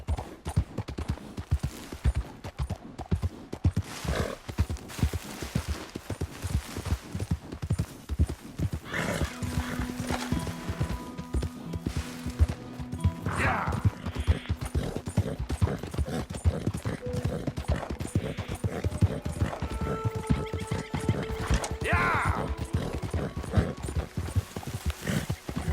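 A horse in Red Dead Redemption 2 gallops with a fast, steady clip-clop of hooves. Its whinnies and snorts break through from time to time, and brief game voices and music can be heard faintly underneath.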